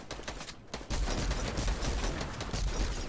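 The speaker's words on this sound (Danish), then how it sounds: "Infantry er et ondt våben." Infantry rifle gunfire in the Fortnite video game, a rapid burst of repeated shots firing loud and close, continuing steadily after a brief quiet gap with no talk over it.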